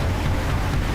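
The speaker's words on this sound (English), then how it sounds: "We can see and hear the endless energy of the ocean." A steady, dense roar of ocean waves surging continuously with no breaks, close and loud, with no voices.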